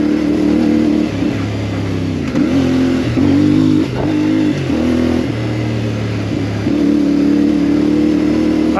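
CFMoto MT450 motorcycle engine accelerating hard and shifting up through the gears, loud and close, with repeated rising revs broken by short gear-change dips.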